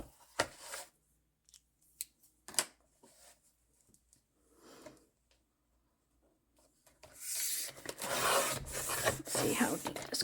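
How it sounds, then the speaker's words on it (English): Scissors cutting paper for a double-sided art journal, with a few sharp snips and rustles early on, then a longer stretch of sustained cutting and paper scraping near the end, close up with little talk. "Just making a mark on the other side so I know exactly where I need to cut."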